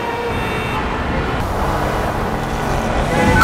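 Steady roar of rush hour road traffic in Las Vegas, cars and heavier vehicles passing nearby, swelling slightly louder toward the end.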